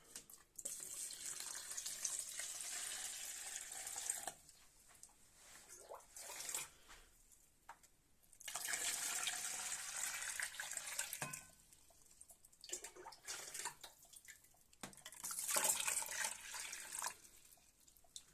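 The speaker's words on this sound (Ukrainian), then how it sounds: "Доливаємо в каструлю." Water runs into a large pot for canning jars of pickled cucumbers, arriving in three long hissing bursts separated by short pauses, close and fairly loud, with no voices.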